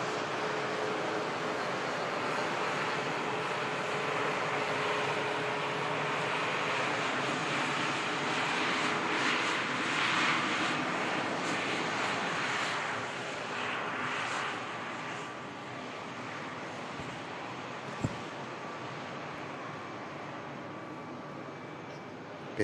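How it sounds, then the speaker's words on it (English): A KLM Embraer E2 jet rolls past on the ground at Manchester Airport, its engine roar and whine steady for a while before easing off, heard from a moderate distance with no talk. "KLM, E2 rolling past."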